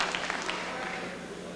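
A rowdy Canadian crowd at a 1989 World Cup of Darts match in Toronto cheering and clapping in a steady roar, a commentator's voice running over it.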